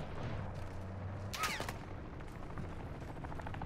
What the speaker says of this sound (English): Can one of you try to fire a weapon?